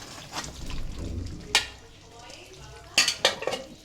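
Bottle gourd pieces hitting spice paste in a pan and being stirred for a pangas fish curry, with soft sizzling, scraping and sharp metallic clinks of a spoon against the pot, plus faint background sound.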